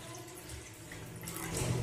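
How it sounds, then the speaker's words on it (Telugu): Water is poured into a bowl while milk is being readied for boiling, a close, steady rushing splash that swells louder toward the end, with no talking. "ఇప్పుడు మనం ఒక బౌల్లో వాటర్ వేసుకుందామండి."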